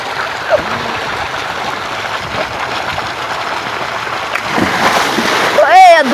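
Water splashes and churns continuously at close range, growing louder toward the end, while people talk and call out over it.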